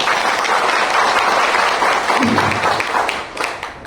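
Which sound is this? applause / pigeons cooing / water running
applause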